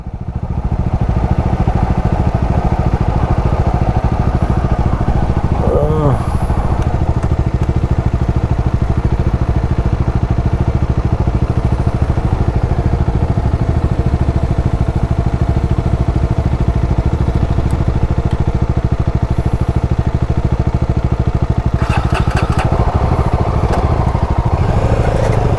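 An adventure motorcycle rides over a badly broken, rough road, its mid-pitched engine droning loud and steady throughout with occasional rattles and clatter from the bumpy surface.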